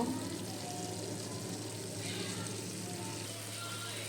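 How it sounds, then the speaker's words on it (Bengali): Ghee melting over a covered vegetarian pointed gourd dish in a pan, giving a soft, faint, steady sizzle heard close with no talk. "দমের ওপর দিয়ে এক চামচ পরিমাণ এখন ঘি দিয়ে দেব"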